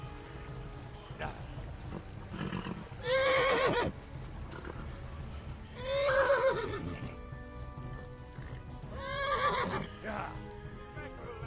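In the video game Kingdom Come: Deliverance, a horse gives three loud, close whinnies amid a steady clip-clop of galloping hooves, while someone talks briefly over the action.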